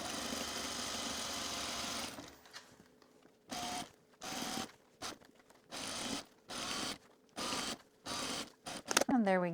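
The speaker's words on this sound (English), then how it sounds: "We're gonna stretch, then sew." A sewing machine stitches stretched elastic onto jogger sweatpants, first in one long steady run, then in a string of short whirring bursts separated by brief pauses, with a final quick flurry at the end.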